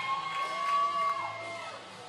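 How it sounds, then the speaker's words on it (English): Crowd at a college ice hockey game between George Mason University and UNC-Wilmington, a faint, distant murmur of cheering and scattered shouts with a steady tone ringing through the arena. "Crowd getting into it."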